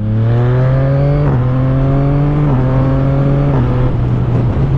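A Yamaha MT-09 SP motorcycle, a 2023 model, revs loudly and steadily up close, its engine note holding and then climbing in several stepped pulls that sound like gear changes.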